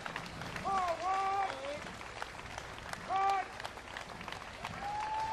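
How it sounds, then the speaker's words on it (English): An outdoor crowd applauds Marines marching in a Fourth of July parade in Bristol, Rhode Island, with scattered clapping and cheers at a distance, while voices can be heard talking over it throughout. "you can hear the applause for them right now."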